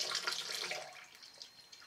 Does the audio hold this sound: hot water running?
yes